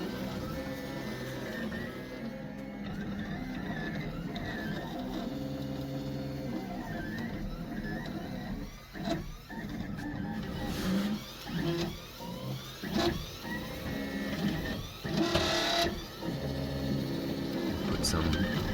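A 3D printer prints the rear part of an Airwolf model with continuous mechanical whirring and stepping-motor tones, steady throughout and close, while a person talks over it.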